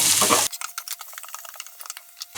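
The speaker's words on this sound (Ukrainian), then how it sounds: "шкварчить чесничок" A brief loud hiss opens, then garlic sizzles in a hot frying pan with scattered crackles and light stirring scrapes, close and steady.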